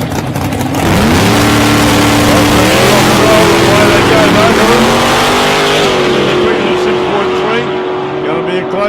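Drag race cars, including a Corvette, accelerate hard down the strip at South Coast Raceway, engines roaring loud and continuous with rising pitch sweeps, under steady commentary from a track announcer.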